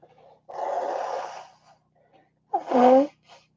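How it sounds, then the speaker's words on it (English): Someone blows their nose twice, a long breathy honk followed by a shorter, louder snorting blast, close and distinct. "I'm sorry you got to hear me blow my nose all the time."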